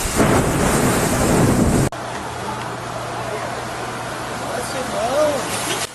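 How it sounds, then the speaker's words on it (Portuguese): Strong extratropical cyclone storm with heavy wind and rain lashing the beach at Santos, Brazil, a loud roaring rush throughout with a sharp drop in intensity partway, steady gusting noise after. "Olhe a força do vento."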